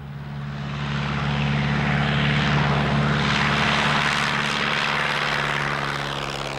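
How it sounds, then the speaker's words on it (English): A de Havilland Tiger Moth light aeroplane, the classic wartime trainer, roars past with a steady, loud propeller-engine drone that swells toward the middle and eases slightly at the end. "I've always liked light aeroplanes, and the Tiger Moth is a classic"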